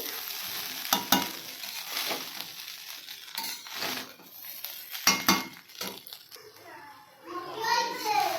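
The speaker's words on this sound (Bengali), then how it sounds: "এবার হচ্ছে ফ্রাই করে নেব তাহলে আমার হচ্ছে ফ্রায়েড রাইস রেডি তো এবার হচ্ছে কিছুটা পরিমাণ ঘি দিয়ে দিচ্ছি" Fried rice sizzling and being stirred with ghee in a pan, with scraping utensil clatter over a steady frying hiss, under a voice and someone talking in the background.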